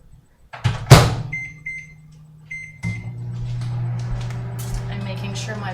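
A microwave oven defrosting pork chops: a door clunk and button beeps, then the steady low hum of the running oven, with a voice speaking briefly near the start.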